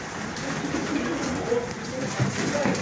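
A racing pigeon coos softly in a low, rolling murmur beneath steady background noise, with a voice speaking nearby.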